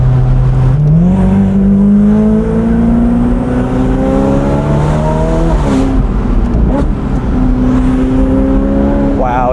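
A Ferrari F8 Tributo twin-turbo engine revs loudly and steadily, its pitch climbing and dipping through gear changes, with a voice speaking faintly over the roar.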